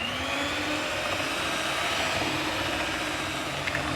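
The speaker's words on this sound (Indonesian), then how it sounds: "Ini kita mixer hingga kalis dan elastis." An electric mixer whirs continuously while kneading enriched bread dough for wool roll bread, a steady close motor drone with no talking.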